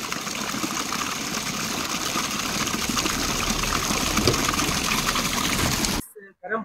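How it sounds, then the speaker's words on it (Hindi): Sweet spring water gushes steadily from a spout on a mountain stream at Garampani in Uttarakhand, a loud continuous rush that cuts off abruptly near the end, followed by a moment of speech. "ये मीठे पानी का सदा नीरा है ये चाहे जाड़ा हो, गर्मी हो, बरसात हो, ये हमेशा बहता रहता है"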